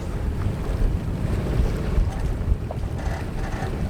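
About 30 knots of offshore wind blows hard at sea off pine-forested hills, roaring steadily across the microphone, with rushing water and boat sounds beneath and no voices.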